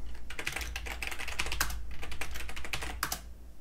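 A command typed on a computer keyboard, a quick steady run of close, crisp key clicks with a few heavier presses, no talking.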